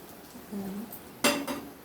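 Jaggery payasam poured from a cooking pot into a serving vessel after the stove is switched off, a few soft scrapes followed by one sharp metallic clank and a lighter knock of steel utensils, fairly quiet.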